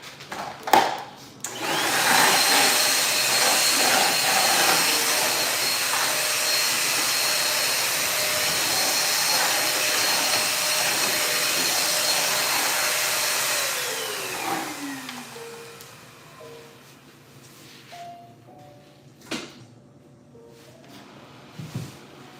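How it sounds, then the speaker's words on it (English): A vacuum cleaner roars steadily for about thirteen seconds, then powers down with a falling whine, followed by a few faint clicks and thumps. "I missed the spot with the vacuum cleaner"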